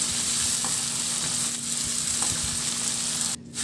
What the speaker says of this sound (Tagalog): ilagay ko na rin yung kamatis. Ganun lang din, ihalo hanggang sa maluto yung kamatis